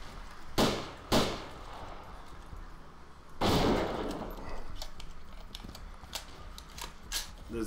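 Gunfire in Arma 2 DayZ: two sharp shots close together near the start, then a heavier, longer blast, followed by scattered faint clicks and distant pops in an outdoor game scene.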